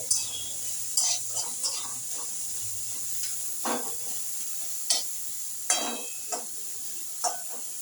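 Onions salted and frying in a pan hiss softly at close range, with occasional spatula scrapes and stirring strokes breaking through at irregular intervals.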